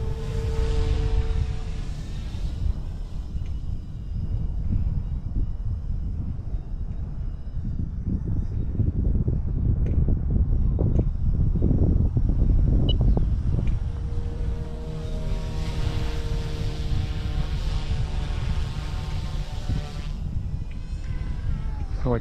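A Flywing 200 remote-control helicopter's small rotor whines and buzzes continuously nearby, its pitch shifting slightly as it moves and banks, with a steady motor drone throughout.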